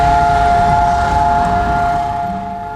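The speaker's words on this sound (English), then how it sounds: "A siren wails at night in Jerusalem." A remembrance siren sounds at night in Jerusalem, Israel, holding a loud, steady mechanical tone across the whole span and easing off slightly toward the end, with distant low street rumble beneath.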